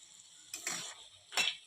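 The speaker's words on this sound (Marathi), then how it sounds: "आता आपल्याला हा हलवा 1 मिनिटभर छान परतून घ्यायचा आहे." A spoon scrapes and stirs carrot halwa with fried dry fruits in a pan, making two short, soft scraping passes that are close and faint, with no voices.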